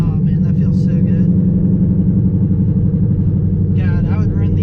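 A cammed Coyote V8 in a Ford Mustang rumbles steadily and loudly up close, with a choppy low idle pulse throughout and someone talking over it.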